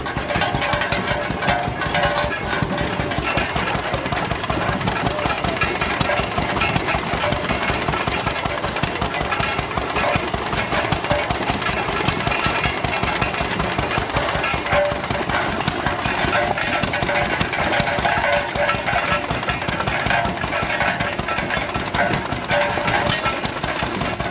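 A home-built tractor engine runs at a Midwest steam and threshers show, a loud, continuous, rapid mechanical chatter close by, steady throughout with no pauses.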